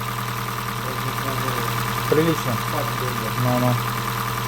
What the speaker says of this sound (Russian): Двигатель работает ровнее.